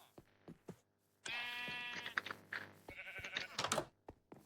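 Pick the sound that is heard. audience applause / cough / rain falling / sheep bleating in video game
sheep bleating in video game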